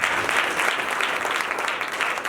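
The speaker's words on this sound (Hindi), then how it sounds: "जोरदार तालियां" A church congregation at a Friday healing service breaks into loud, dense clapping that carries on evenly throughout.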